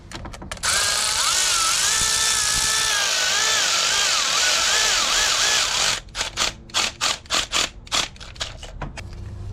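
Power tool driving a stud into a cylinder head during a turbo install on a Honda CR-V, a loud steady whine lasting several seconds, then a series of short rapid bursts as it snugs down.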